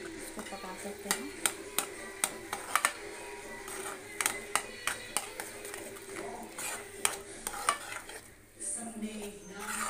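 Semolina being cooked and stirred in a pan for suji aloo balls: a run of sharp, regular spoon taps and scrapes against the metal over a soft background sizzle, close and fairly loud.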